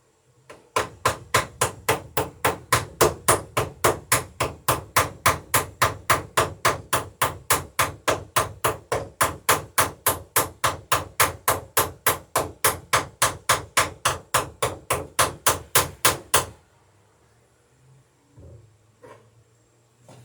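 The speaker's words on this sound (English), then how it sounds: "Now I'll take my ball peen and my backing block" A ball peen hammer peens copper rivets against a backing block while building a dory: a long, fast, steady run of sharp close strikes lasting about sixteen seconds, then abrupt quiet with a few faint knocks.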